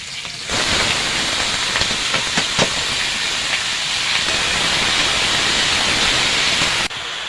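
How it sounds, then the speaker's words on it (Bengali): Bottle gourd frying in a pan with green chili, salt and turmeric for a shrimp dish gives a steady, close, hissing sizzle that holds for several seconds, with a few clinks from stirring early on. "আমি এটা নাড়াচাড়া করে ভালো করে ভেজে নেব।"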